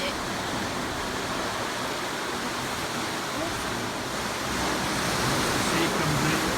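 Sea waves surging into caves and arches in deep volcanic lava rock on Lanzarote, a dense, steady rushing roar of churning surf that swells slightly toward the end.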